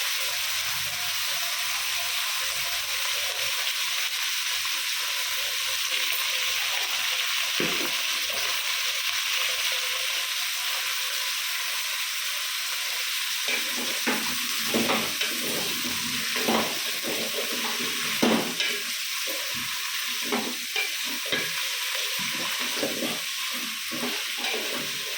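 Vegetable pieces for sambar fry in oil in a pan, a continuous soft sizzle and hiss that turns busier and more crackly partway through, with occasional scrapes and clatters from stirring.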